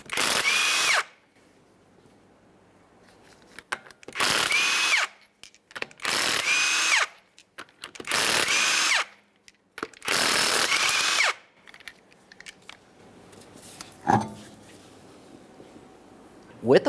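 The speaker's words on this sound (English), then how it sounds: "To remove the wheel, you'll remove all 5 of your 19mm lug nuts," Power tool spinning off the 19mm lug nuts from a Ford Fusion front wheel, five loud close bursts of whirring and ratcheting separated by short pauses, with quieter handling noises afterward.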